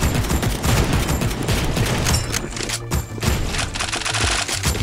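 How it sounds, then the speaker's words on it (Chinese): Rapid gunfire from shooting zombies in a Chinatown action video game, with dense overlapping shots and bursts of machine-gun fire that stay loud and continuous throughout. "开枪的僵尸出现"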